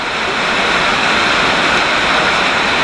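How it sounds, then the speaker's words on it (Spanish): Heavy rain pours onto roof tiles in a dense, continuous hiss, loud and close, with no voices. "si escuchan en las tejas, está lloviendo durísimo"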